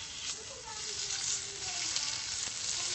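Thin-cut sirloin sizzling as it goes into a hot pan: a loud, steady hiss and crackle close by, with a voice faintly present under it.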